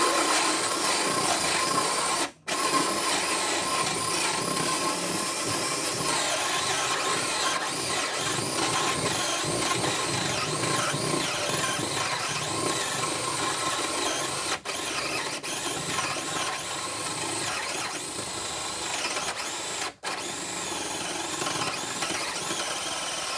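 Steady power drill running continuously while boring holes during a DIY plumbing job, a loud unbroken motor whine with a few brief stops, and no talking.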